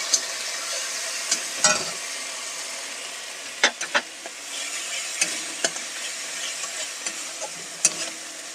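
Turmeric, salt and red chilli powder stir-fry in a pan with potatoes for an egg-potato dish: a soft continuous sizzle punctuated by irregular sharp clicks and scrapes of the spatula, close and without talk.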